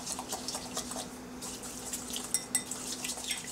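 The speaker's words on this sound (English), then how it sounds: "we're just going to give this a quick whisk" A whisk clinks and scrapes quickly against a bowl as seasonings are mixed, making light, rapid, irregular metallic taps close by.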